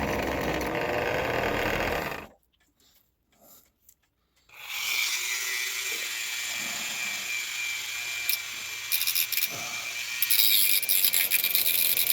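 A wooden part from an 1870s Black Forest picture frame clock spins on a lathe while being shaped with a file. A steady whirring grind with rubbing scrapes resumes after a short near-silent pause.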